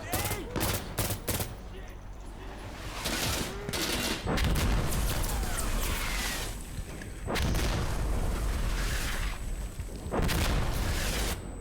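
Rapid sustained minigun fire in the video game Insurgency Sandstorm, a loud continuous roar of automatic shots broken by brief pauses, with further gunfire and booming explosions around it in a chaotic battle.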